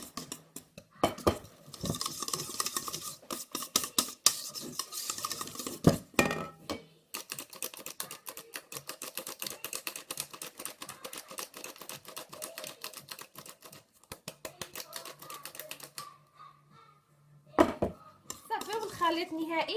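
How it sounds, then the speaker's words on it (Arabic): Flour is mixed by hand into an orange and chocolate cake batter in a bowl, giving dense, rapid clacking and scraping strokes that run on steadily, then pause briefly before resuming. "غنزيد الطحين ونخلط."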